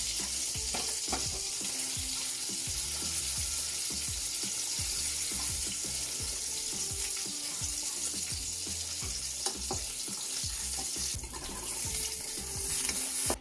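Jerk salmon fries in a pan with a steady, loud sizzle while a utensil stirs and pushes the pieces around, giving frequent soft knocks and scrapes throughout with no talking.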